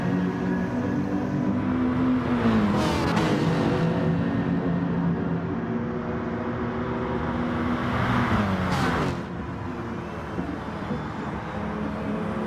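A Ferrari race car in a racing video game holds a steady, loud engine drone with sustained harmonics, its pitch sweeping through quick gear shifts near the third and ninth seconds, with no voice present.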